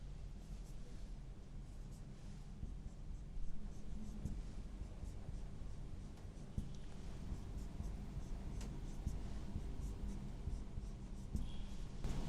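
Pen or marker scratching out chemistry notes on a board during a lecture on complex compounds, soft steady strokes at moderate level over a constant room hum, with no talking.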